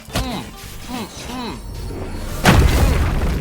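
A booming explosion in the online game Sorcerer Battlegrounds bursts out near the end, loud and broad, after a stretch of someone talking excitedly over softer in-game hits and whooshes.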